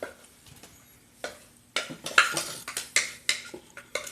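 Green bean casserole is spooned into a baking dish, with a series of sharp clinks and scrapes of a utensil against the dish, close and fairly loud after a quieter start.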